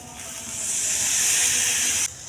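Masala frying with coconut milk in a pan for a prawn malai curry gives a loud, steady sizzling hiss that swells, holds, then drops suddenly near the end, with no voices.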